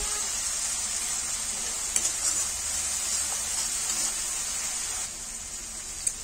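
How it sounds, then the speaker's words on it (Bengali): Ground turmeric, Kashmiri chili, garam masala and cumin sauté in a pan for potol pasinda, a constant soft sizzle and hiss with a couple of faint utensil ticks, close and unbroken by talk. "জিরের গুঁড়ো, মশলা কষানো হয়ে গেছে"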